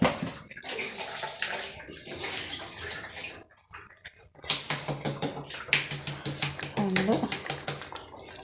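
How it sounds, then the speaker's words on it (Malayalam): Water splashing into a pan of ground coconut curry in a home kitchen, close and uneven, with a pause midway, then rapid clicking bursts under a speaking voice. "കുറച്ച് വെള്ളം ഒഴിക്കാം കേട്ടോ"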